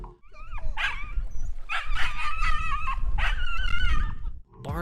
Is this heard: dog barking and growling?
yes